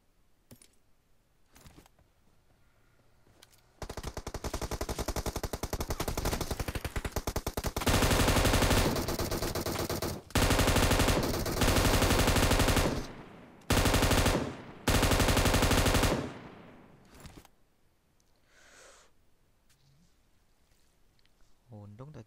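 M249 light machine gun fire in PUBG Mobile, loud sustained automatic bursts running for several seconds with brief pauses between volleys, then fading into quieter game ambience.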